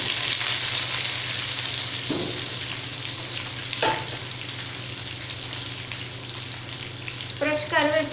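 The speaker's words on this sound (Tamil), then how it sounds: "அடுத்ததாக ஒரு பெரிய சைஸ் வெங்காயம் நீளமாக கட் பண்ணி ஆட் பண்ணிக்கிறேங்க" Long sliced onion sizzles in hot oil with crushed garlic and mustard seeds for Tamil sevai, a steady dense frying hiss with a few scrapes of stirring and a quick clatter near the end.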